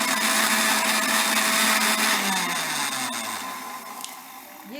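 A kitchen blender runs loud and steady, whirring through milk, sugar and Rooh Afza syrup for a few seconds, its drone softening slightly toward the end.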